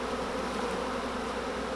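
Honeybees buzzing densely up close during a varroa mite alcohol wash at a hive, a steady, loud swarm drone with no pause and no voices.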